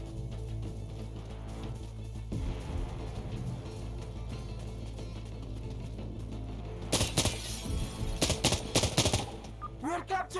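Bursts of gunfire from Insurgency Sandstorm, a modern military shooter, ring out loud and sharp in rapid clusters toward the end, following a stretch of low background rumble and faint shots.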